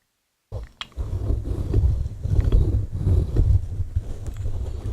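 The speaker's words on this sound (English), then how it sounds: "I've used a pair of scissors," Rough, breathy rubbing and scraping from scissors dragged across a microphone for ASMR, close and continuous with soft bumps, starting abruptly after a brief silence.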